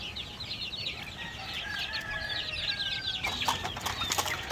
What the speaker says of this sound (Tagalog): malalaki na rin yung ating mga roosters na white leghorn